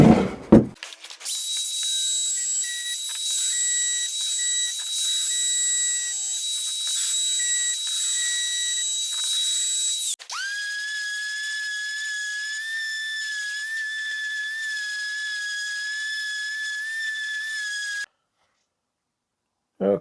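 A router cuts a half-inch round-over on the edges of a wooden clock with a loud, steady high whine, then a second tool sands at a different pitch for several seconds before cutting off into silence.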